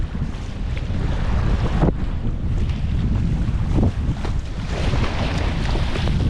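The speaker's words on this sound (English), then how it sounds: "But there's no pattern to the waves, they're everywhere." Choppy tide race waves slosh around an Itiwit X500 kayak near the end of an ebb tide, a continuous loud wash of water with strong wind noise and a few sharper splashes.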